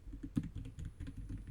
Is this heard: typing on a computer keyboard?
yes